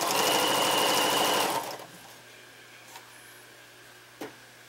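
A sewing machine stitching pyjama bottoms runs steadily and loudly for about a second and a half, then stops, leaving quiet room tone with a couple of small clicks.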